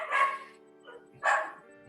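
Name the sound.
small dog barking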